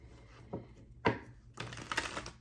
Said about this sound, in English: So I'm just going to do a quick shuffle.